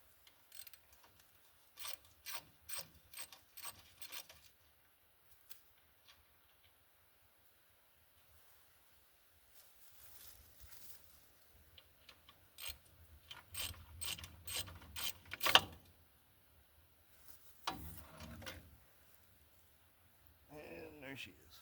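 Hand ratchet fitted with a 13mm socket loosening bolts during coil spring removal for a V8 swap, giving quick bursts of sharp clicks in separate runs, close and loud, with gaps of quiet and some rustling and handling noise between.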